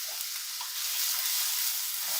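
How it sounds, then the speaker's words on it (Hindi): Mixed vegetables with grated carrot fry in a pan with a little oil, cumin and ginger, giving a steady, bright hiss of sizzling that holds even throughout with no voices. "थोड़ी सी सब्जियां फ्राई कर रहे हैं"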